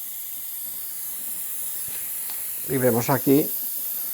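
A steam-driven phenol sprayer heats water and atomises phenol, giving a steady, even hiss of vapour throughout, with someone briefly speaking over it near the end.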